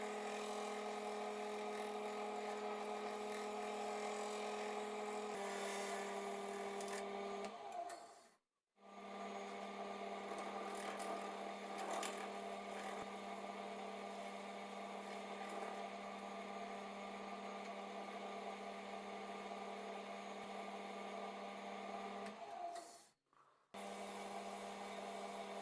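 A steady powered whine and whirr from a lathe turning a cherry wood stem with resin and milliput repairs as it is sanded, running continuously and close, broken by two brief stops.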